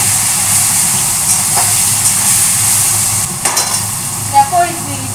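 Boiled taro leaves tossed into a hot pan sizzle and steam steadily under a running kitchen chimney fan, with stirring clatter and a few brief utensil scrapes toward the end.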